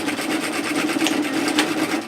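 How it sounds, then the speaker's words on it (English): A sewing machine stitches woven fabric for a kimono robe in a continuous close whirring hum with rapid, even needle rhythm, running alone without talk. "we're going to stitch like this till we get directly opposite the centre"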